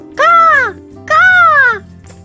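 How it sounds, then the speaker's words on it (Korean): Crows give two loud, harsh caws in quick succession, close and clear against a quiet background. "엄청난 까마귀 떼가 날아들었습니다"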